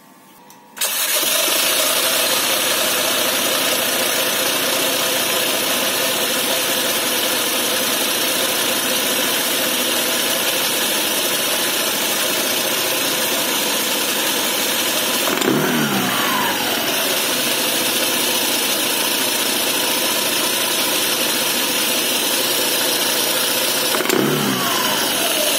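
A Honda PCX motor scooter engine, after CVT servicing, sputters to life and settles into a steady, buzzing idle that runs on loudly and close by.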